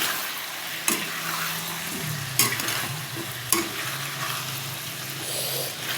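Fish and taro stem curry bubbling in a cooking pot, stirred with three sharp scraping knocks of a spoon against the metal over a steady sizzle and simmer, heard up close with no talk.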